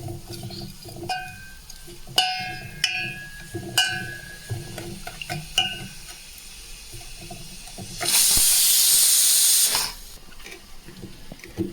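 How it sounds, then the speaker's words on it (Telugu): A pressure cooker cooking dal sends out a loud burst of steam whistle lasting about two seconds, after a run of scattered metallic clinks and kitchen clatter, with no talk. "పప్పు అయితే విజిల్ వస్తుంది"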